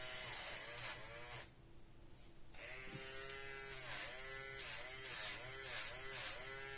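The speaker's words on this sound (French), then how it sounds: "il faut bien insister avec la ponceuse pour enlever tout ce rouge là" An electric nail file sander grinds red nail polish off a nail with a close, high, steady buzz. Its pitch rises and dips as pressure changes, and it stops briefly before starting again.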